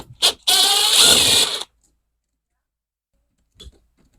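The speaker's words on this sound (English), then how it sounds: "So let's pull these 2 5/16 nuts." Two 5/16 nuts being removed from the air cleaner housing of a battered McCulloch string trimmer: a quick mechanical tick, then about a second of loud, buzzing tool whir, then a faint tap after a pause.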